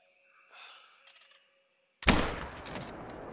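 A single sharp rifle shot fired at a moose in the hunting game theHunter: Call of the Wild, a sudden loud crack after near silence, followed by a long echoing rumble.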